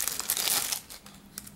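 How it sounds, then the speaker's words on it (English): A small plastic bag for a MOJO digital life counter crinkles loudly as it is opened, bursts of close rustling and crumpling that taper off into lighter scattered crackles. "It does come in a little plastic bag"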